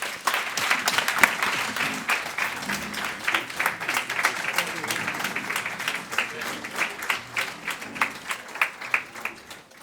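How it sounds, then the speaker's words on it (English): Sustained applause from a crowd, steady dense clapping that thins slightly toward the end, with some murmuring voices underneath. "I think that the round of applause, I think, was so low."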